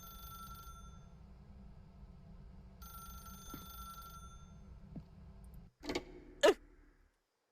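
A telephone rings repeatedly in The Stanley Parable, a steady electronic ring under a low hum that stops before a couple of sharp closing clunks.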